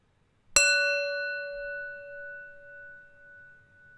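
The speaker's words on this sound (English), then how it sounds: "Listen to the sound of the bell" A single meditation bell is struck once, ringing out clearly with a bright attack and a long, slowly fading sustained tone in a quiet room.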